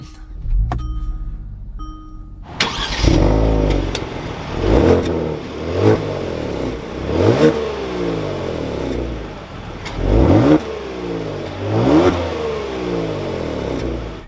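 A 2022 Kia Stinger GT1 RWD engine cranks and catches, then revs up and down several times in repeated surges, loud and close, before settling to an idle.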